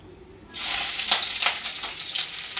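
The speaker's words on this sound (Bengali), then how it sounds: "এবার দেবো আমি পেঁয়াজ।" Onion dropped into hot mustard oil in a kadai sets off a sudden loud sizzle that keeps crackling and hissing steadily, with the occasional scrape of stirring and no voices.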